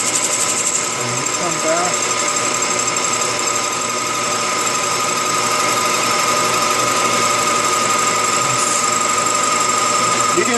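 A lathe cutter lightly turns stainless steel being prepared for ACME threads, making a constant, dense metallic whirr and rattle throughout. Someone speaks briefly over the machining.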